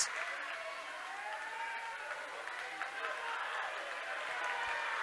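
A high school volleyball crowd for Sheboygan Christian cheers and claps steadily through a WIAA Division 5 sectional final, a broad distant roar in a gym, with an announcer talking over it.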